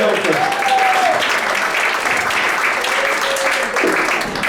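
Audience at a live magic and comedy show bursts into sustained applause, dense clapping filling the room throughout, with a brief voice calling out over it.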